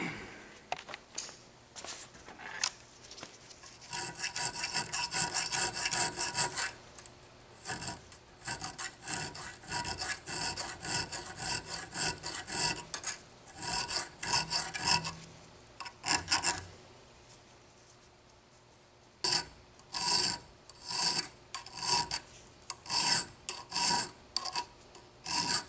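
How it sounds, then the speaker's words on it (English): A rasp files a wooden knife handle in repeated rough scraping strokes, a steady rhythm over a long stretch with brief pauses and a few short strokes near the end, close by. "But let me start filing on it"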